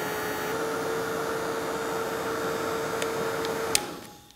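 A crafting heat tool blows hot air steadily to dry distress oxide ink, a loud continuous whirring roar with a faint steady whine that runs for about four seconds, then cuts off and winds down.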